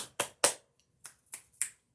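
Six crisp finger snaps, close and fairly loud, come in two groups of three with brief silent gaps between them, nothing else audible.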